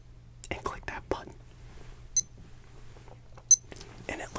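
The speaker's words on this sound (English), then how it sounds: "It looks like I'm doing something important because of the beep." A button clicked on a handheld device gives two short, sharp electronic beeps, spaced more than a second apart, amid quiet whispering in a close-miked ASMR setting.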